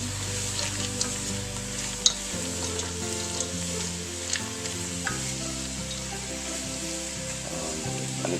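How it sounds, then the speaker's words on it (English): Lentil soup vegetables cook in a pot with a steady sizzle while a utensil stirs them, making occasional scrapes and clicks close by, with no one speaking. "So I'm going to mix it all up."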